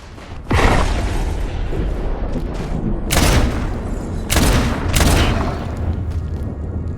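Magnum revolver shots in Abiotic Factor: a few loud, sharp blasts spaced over several seconds, close and heavy, against a steady low background rumble.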